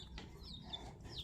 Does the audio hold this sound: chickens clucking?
yes